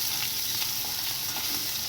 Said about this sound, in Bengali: এটাকে পনিরগুলো ভাজা ভেজে ভেজে তুলে নিচ্ছি